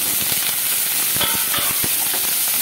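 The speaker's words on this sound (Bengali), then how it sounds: "এখন আমি ফুলকপিগুলোকে ভেজে নেব" Cauliflower frying in hot oil over a medium-high flame, a constant hiss with a few sharp spitting pops, close and unaccompanied by talk.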